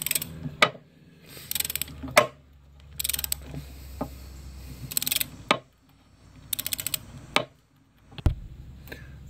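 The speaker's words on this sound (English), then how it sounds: "So we got to get this bolt completely out." Ratchet wrench clicking in quick bursts as a Loctite-coated 13 mm bolt is backed out of the leaking steering rack on a Dodge Ram 1500, with metallic clanks between bursts, close and clear with no talking.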